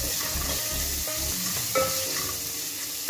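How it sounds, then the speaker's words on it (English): Onions, ginger and garlic fry in a pan for a chicken stew, giving a steady close sizzle with spoon scrapes and light clicks as they are stirred. "At this point my onions are almost ready, so I'll add in my ginger and my garlic so that they cook together"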